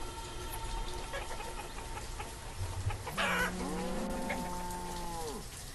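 Chickens clucking in the village-building game Banished, repeated clucks and a drawn-out rooster-like call over low ambient game background, no talk.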